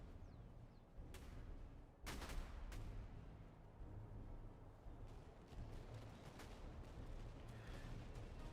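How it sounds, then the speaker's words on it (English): Artillery fires canister shot in the battle game Master of Command. Distant booms and crackling volleys roll over a continuous low rumble of battle, with a few sharp, louder reports near the start. "All of my artillery is already firing canister"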